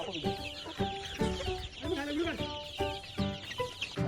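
Several chickens, including a red-black rooster, cluck and squawk close by in short repeated bursts on a chicken farm, with a rising drawn-out call in the middle.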